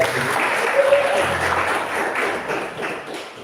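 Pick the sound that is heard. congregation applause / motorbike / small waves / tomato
congregation applause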